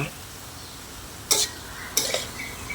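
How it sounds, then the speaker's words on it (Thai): Straw mushrooms being stir-fried in a pan over low heat, with two brief scraping clatters of a utensil against the pan over a quiet, steady background. "เราก็ ผัดไปเรื่อยๆ เปิดไฟอ่อน ๆ น้ำของเห็ดก็เริ่มที่จะออกมาแล้วนะคะ"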